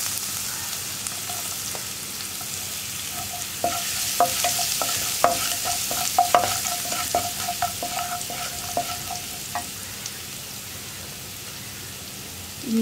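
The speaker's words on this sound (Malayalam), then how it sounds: "ഇതൊന്ന് ചൂടായി വരുമ്പോൾ കട്ട് ചെയ്ത് വെച്ചിരിക്കുന്ന ഇഞ്ചി," Cut ginger frying in hot oil with asafoetida: a steady, bright sizzle throughout, with a cluster of light spoon taps and stirring clicks through the middle, close and with no voice.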